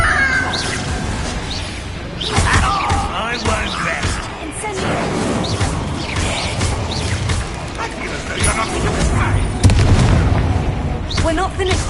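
Fiery blast of the Incendio spell, a loud booming burst amid dense, busy game sound with shouting voices and other effects throughout.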